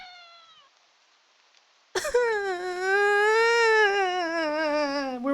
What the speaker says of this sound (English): We're one meow in and I'm already scared.